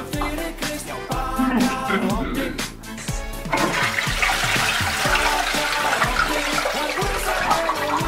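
A toilet flushing with a load of 100 sheets of toilet paper, rushing water and gurgling filling the bowl close up and loud, with a voice talking over the first few seconds.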